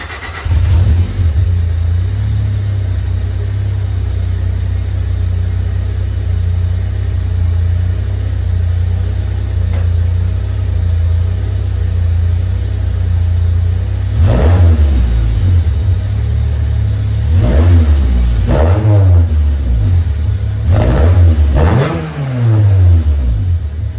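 A 1995 Honda Civic coupe fitted with DNA headers idles with a loud, steady low rumble, then revs sharply several times in the latter half, each rev rising and falling back to idle.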